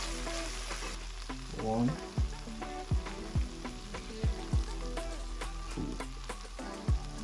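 Garlic paste being stirred in a sizzling pan while cooking lemon pepper wings, with steady frying hiss and several sharp scrapes and knocks from the spoon against the pan, and a brief spoken count over it.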